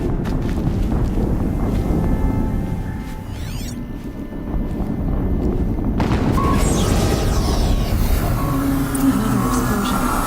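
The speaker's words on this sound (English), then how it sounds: "Another explosion." Game explosions in Horizon Zero Dawn during the Makers End mission, heavy low rumbling booms and debris noise filling the clip, with a sharp burst near the middle and a dense noisy wash continuing loud to the end.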